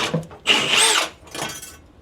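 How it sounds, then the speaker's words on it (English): A drill fitted with a 3/4 inch flex auger bit bores up into a wall stud bay in a finished room, a short close whirring burst that grinds through wood, then winds down. "use a flex auger bit, which is 3/4 inch in size, and we're going to go up into the stud bay"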